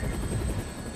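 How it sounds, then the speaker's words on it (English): A helicopter in the zombie game Dead Rising drones steadily with a dense low rotor rumble and broadband wash, loud and continuous throughout. "Looks like taking a helicopter was the way to go."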